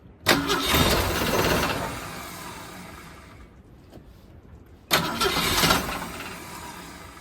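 An engine with an idle air mixture screw turned almost all the way out cranks and catches loudly, runs to a rough idle that fades down, then fires up abruptly again, close by with no talking.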